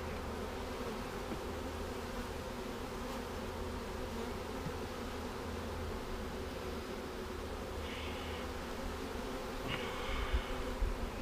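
Honey bees in freshly installed package hives hum in a dense, steady buzz close up, with a few brief sharper tones near the end.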